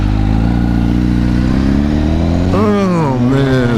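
A red Chevrolet Camaro goes by on a wet road, its engine note rising and sweeping down in pitch over a steady, close motorcycle engine drone.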